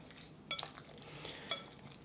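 Soy sauce chicken marinade with a teaspoon of cornstarch stirred in a bowl: two faint, isolated clicks of a spoon against the dish about a second apart over a quiet background.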